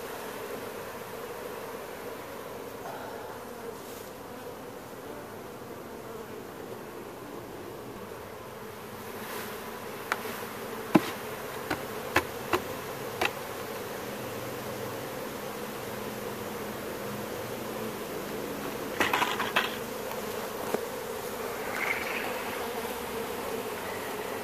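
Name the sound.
swarm of honeybees buzzing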